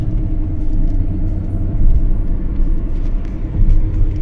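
A Skoda Octavia 1.4 Classic cruises in fifth gear at about 60 km/h. A steady, loud, low engine and road rumble fills the cabin, with no one talking.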